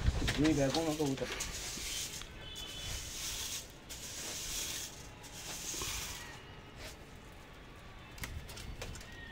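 Pigeons coo with soft rolling throaty calls near the start, then fade under ongoing Hindi-speaking voices and faint background rustle.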